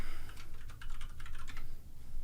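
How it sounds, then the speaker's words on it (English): Fast typing on a computer keyboard, a steady run of close, crisp key clicks over a low background hum, with no voices. "I should probably finish typing"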